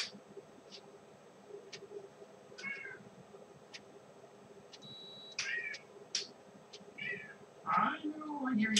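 A house cat meows in a home kitchen during cooking, giving several short, fairly faint meows scattered across the moment, with the loudest near the end. A person's voice is also present.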